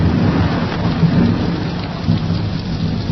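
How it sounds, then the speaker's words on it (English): Loud rain and rolling thunder from a radio advert sound effect, with a dense steady downpour and deep rumbles running continuously, and no voices. "Winter winds and rain bring slippery streets and slick highways."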